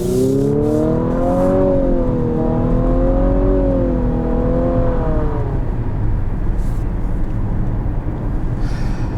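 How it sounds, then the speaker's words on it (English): A 2023 Infiniti QX55 with a 2-liter turbo engine and CVT accelerates from inside the cabin, its engine note climbing and dropping in stepped simulated shifts before settling into a steady drone, loud and unaccompanied by talk. "the CVT does have the fake shifts, but I'd rather have that than just wah"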